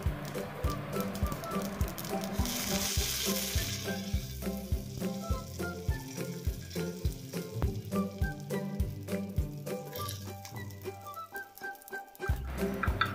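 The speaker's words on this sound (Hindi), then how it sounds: "अब फिर से इसमें थोड़ा सा ऑयल डालेंगे, राई डालेंगे और थोड़ी सी कड़ी पत्ती डालेंगे।" Mustard seeds and curry leaves hit hot oil in a pan while a semolina breakfast cooks, bringing a busy crackling sizzle with rapid popping that is loud at first, then settles into irregular spitting.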